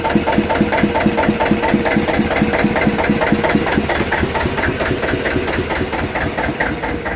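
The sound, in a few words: Russell Newbery vintage narrowboat engine running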